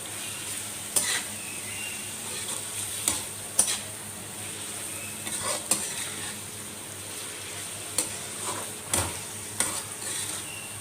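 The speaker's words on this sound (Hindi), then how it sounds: "ये चॉप किया हुआ प्याज इसमें अब डालेंगे।" Chopped onion sizzles in a pot of karela aloo curry, a steady low frying hiss with a series of sharp spoon scrapes and taps against the pot spread irregularly throughout, and no voices.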